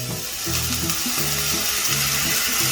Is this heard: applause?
no